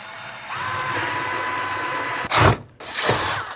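A power drill bores holes into the end of a wooden woodworking project, a steady whir running for about two seconds, then two short, louder bursts as the bit bites in close by.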